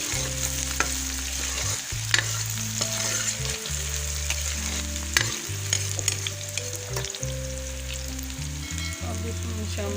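Golden onions fry in a pan, sizzling steadily while a spoon stirs them with repeated scraping strokes, close and without talking, under a faint background melody.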